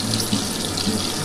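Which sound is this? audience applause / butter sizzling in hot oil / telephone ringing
butter sizzling in hot oil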